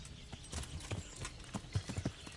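A horse's hooves clip-clop in Kingdom Come: Deliverance, a quick irregular run of hoof strikes at moderate distance over low background game noise.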